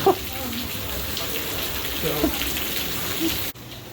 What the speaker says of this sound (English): Wow. It's really raining.